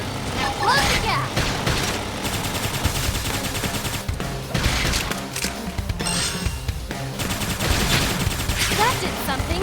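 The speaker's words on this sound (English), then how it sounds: "Try toppling it with gunfire!" Gunfire in the video game Xenoblade Chronicles X: dense, continuous shooting and blasts layered with combat effects and game music, loud and unbroken throughout.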